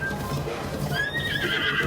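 Horses neigh in Zelda: Breath of the Wild, a close, loud whinny rising into shrill wavering cries over a dense game soundscape of low hum and faint hoof clops.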